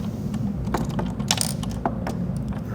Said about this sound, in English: take a 10 mil socket and back this nut off